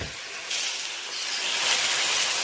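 A paste of radhuni, ginger and fennel sizzles in a pan as water is added, making a loud, close, broadband hiss that jumps up sharply after a moment and keeps spitting steadily.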